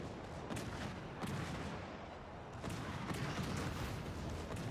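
Gunfire from a warship's main guns in a World of Warships Legends naval battle: a few heavy, reverberating booms spaced out over a constant dull roar of battle, fairly faint overall.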